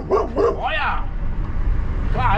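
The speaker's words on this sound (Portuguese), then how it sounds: "Olha o cachorrão brancão." A big white dog barks several times in quick succession, then again after a pause, with loud, close, whimpering rises over constant low background noise.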